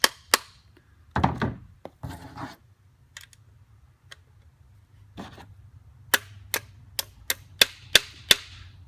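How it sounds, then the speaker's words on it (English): Sharp metallic taps from a small hammer driving pins into a shotgun, a few scattered at first and then a quick regular series of about eight strikes, close and fairly loud. "you can just use a little hammer and softly hammer those in"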